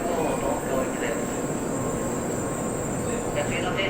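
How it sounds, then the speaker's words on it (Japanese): A Nozomi 26 Shinkansen bound for Tokyo pulls into an Okayama Station platform, its steady, loud broadband rumble and rushing noise running unbroken and close throughout. "23番乗り場到着の列車13時23分発のぞみ26号東京行きです"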